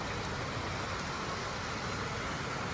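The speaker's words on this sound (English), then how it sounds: "Enjoy the rain sound." Steady rain falls with a dense, even hiss that stays constant throughout and has no pauses, voices or other distinct sounds.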